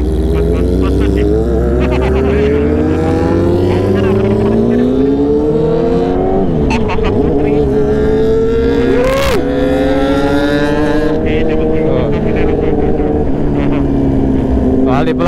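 A Kawasaki ZX25R motorcycle runs loud with its exhaust droning, with revs rising and dropping in a continuous close roar, while people talk over it.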